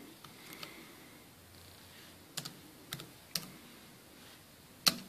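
Sparse keystrokes on a Logitech Bluetooth keyboard, a few soft clicks and several sharper isolated taps spaced irregularly, close and fairly quiet in a still room.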